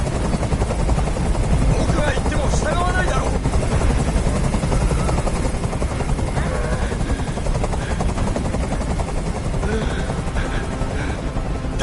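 Helicopter hovering in the video game Detroit: Become Human, a loud continuous rotor roar and throb filling the whole scene, with someone speaking over it.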